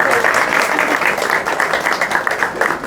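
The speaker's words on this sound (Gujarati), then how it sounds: "તાળી પાડો" An audience at a Gujarati satsang gathering clapping their hands together, a dense, continuous round of applause lasting a few seconds at fairly loud, even volume.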